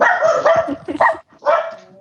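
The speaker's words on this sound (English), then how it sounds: "See, even the dog doesn't like it." A dog barks and yips in a quick run of loud, close barks, pauses briefly, then barks again, with a few whimpering notes and no talk over it.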